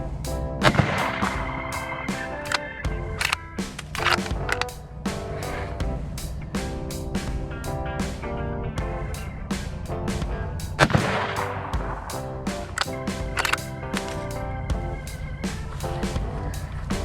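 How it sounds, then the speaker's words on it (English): Ruger American Rifle shots outdoors, sharp loud cracks with booming echoes over a rumbling background, several impulses spread through the stretch with no talking. "Shot number 3."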